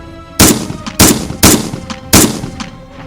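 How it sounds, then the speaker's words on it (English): Four loud, sharp gunshots ring out at uneven intervals over about three seconds, each a sudden bang with a brief echo trailing behind it, and no one speaks. "But repeated loud bangs are much more likely to be gunfire."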